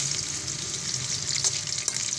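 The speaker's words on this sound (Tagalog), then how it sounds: "Prituhin muna natin siya." Pieces for pork adobo fry in a pan with a steady close hiss and crackle of hot oil, plus a few faint pops.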